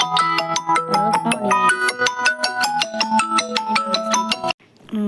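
A phone rings during mobile gameplay, a loud bright melodic ringtone of rapid repeating tones that plays for several seconds before cutting off abruptly.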